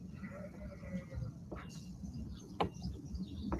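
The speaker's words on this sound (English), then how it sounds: "Can you hear the birds?" Birds sing outdoors in short, faint chirps and thin whistled notes scattered over a soft background hum, fairly distant and intermittent.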